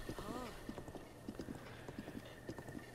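Steady clip-clop of horse hooves trotting at a quick, even pace over a low background hum, with a brief whinny near the start, in the video game Breath of the Wild.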